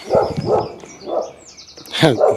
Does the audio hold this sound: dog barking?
yes